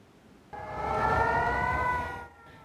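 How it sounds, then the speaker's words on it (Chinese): An air raid siren sounds in Gaza, rising into a steady, loud wailing tone that holds for under two seconds before fading away. "警报声又搁咧弹，四界拢是烟。"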